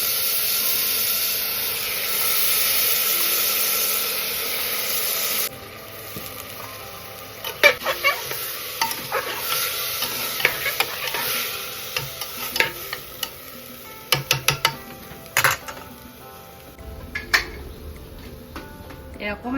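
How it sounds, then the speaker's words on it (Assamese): Lentils fry in a pan for an Assamese vegetarian thali, a loud steady hiss at first giving way to a quieter sizzle with a string of sharp spatula clicks and scrapes against the metal. "অকণমান এনেদৰে ভাজিব দি লওঁ।"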